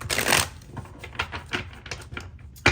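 Tarot cards being shuffled at close range, a run of quick riffling and snapping bursts with uneven rhythm, louder at the start and again near the end.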